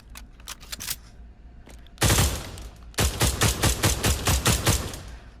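A weapon emptying its magazine in the VR shooter Pavlov: a few scattered shots, then two long bursts of loud, rapid automatic fire close up, separated by a short pause.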